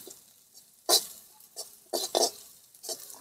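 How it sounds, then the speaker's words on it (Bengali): Green chillies being fried and stirred in a pan make bursts of scraping and clattering, each followed by a brief soft sizzle, close and loud, with quiet gaps between the strokes. "কাঁচা লঙ্কাটা দিয়ে একটু ভাজা ভাজা করে নেব।"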